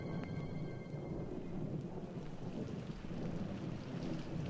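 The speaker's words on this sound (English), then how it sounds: "And then the rains came" Heavy rain pours steadily with deep rolling thunder, a loud, continuous storm wash evoking rain hissing onto hot volcanic rock on the early Earth, with no voices.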